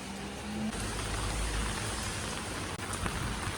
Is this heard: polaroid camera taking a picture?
no